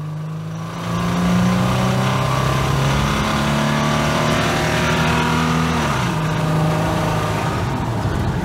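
A car engine is pushed hard during a burnout, going from a lower rumble into a loud, sustained high-revving roar with a brief dip in pitch near the end before climbing again, close and without talk.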